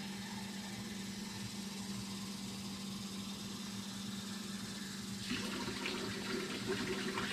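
A low steady hum runs alone until 4 cups of well water suddenly start pouring into a pan in a continuous splashing stream near the end.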